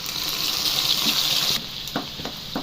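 Ginger-garlic paste is dropped into hot oil left from frying chicken for a chicken pickle, giving a loud, steady frying hiss that eases after a moment into softer sizzling with a few faint kitchen knocks.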